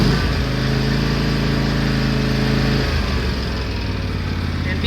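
A John Deere X350 lawn tractor engine running with a steady, loud, low hum that drops slightly in pitch partway through. It is close by, with no voices over it.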